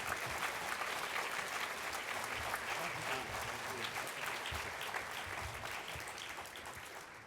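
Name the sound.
audience applause for the diamond level sponsors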